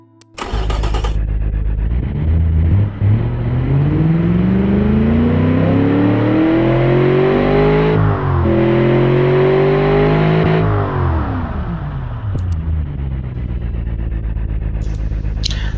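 A Chevy LS2 replica V8 in the Automation car-building game starts up with a brief crank, then revs steadily upward in a loud, sustained climb. It dips, eases back down and settles into a lower drone near the end.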